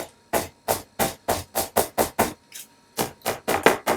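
Screwdriver gouging into soft wood in about a dozen short, scraping strokes, evenly spaced and fairly close, with a brief pause before the last few.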